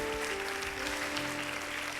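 A church congregation applauds in welcome at Iglesia Cristo Viene in Baytown, Texas, a continuous roomy wash of clapping under a sustained musical tone and hum.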